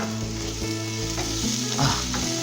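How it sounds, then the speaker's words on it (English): Pork sizzles and crackles in a frying pan, with stirring and scraping sounds on top, steady and close. "The sizzling sound of the food, of the meat specifically."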